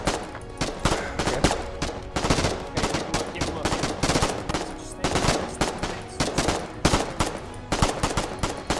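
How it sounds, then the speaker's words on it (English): Dense automatic and single-shot gunfire from a battle in the war game Foxhole, rapid overlapping bursts crackling continuously and loud throughout, with a voice briefly shouting orders amid the shooting. "Keep firing, keep firing."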